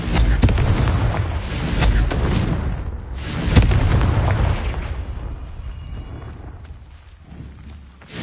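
A blasting-curse explosion from a Harry Potter spell, with booming blasts and rumbling crashes that come loud and close and then die away into a lower fading roar.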